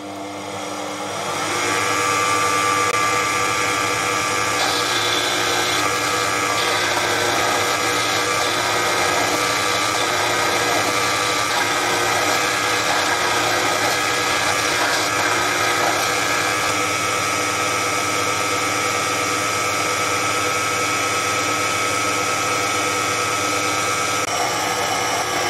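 A Proxxon PD 250/e lathe cuts a thread on a custom tap, giving a steady, loud mechanical whine and hum that runs continuously from start to finish with no talk.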